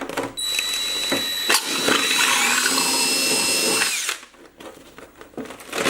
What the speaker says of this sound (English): I'm gonna go ahead and drill